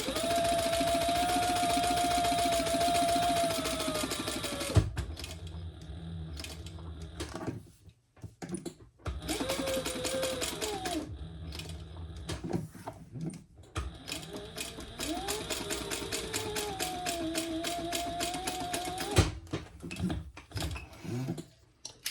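A sewing machine backstitches a hobo-style shoulder bag in several runs of rapid, close mechanical stitching, stopping and starting with short pauses and faint handling sounds between.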